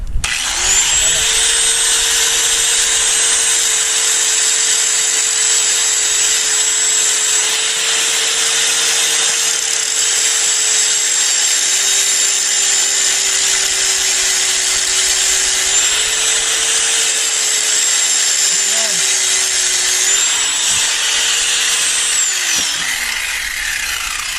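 An angle grinder cutting through a metal chain runs with a loud, steady high-pitched whine for about twenty seconds, then winds down as it stops, with possible faint talk beneath.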